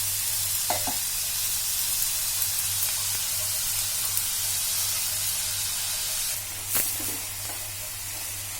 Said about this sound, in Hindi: ये देखिए, प्याज हमारा भून रहा है।